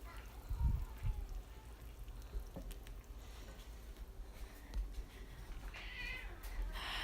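A pet cat in a home kitchen gives soft meows near the mic among low household rustles and faint clatter, with a person's voice talking now and then.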